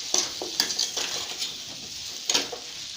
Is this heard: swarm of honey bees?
no